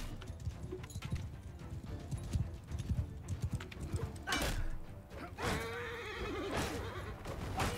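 Horse hooves gallop in steady clip-clop rhythm during a Mount & Blade II: Bannerlord battle, with creaking tack, whooshing swings and a horse whinny, moderately close over a busy background.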